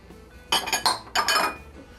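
Canned pumpkin filling and eggs going into a glass bowl for pie, giving two quick bursts of clinks and taps about half a second apart, close and fairly quiet with no talk.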